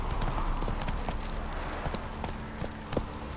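Horse hooves clip-clop at a steady walking rhythm in The Witcher 3, fairly close and moderately loud over a faint ambient bed.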